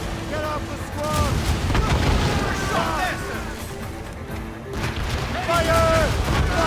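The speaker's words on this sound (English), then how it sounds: "They're firing a volley!" A musket volley crackles and booms in the game Assassin's Creed Rogue, with repeated gunfire bursts and heavy battle noise running through, while voices shout over the fighting.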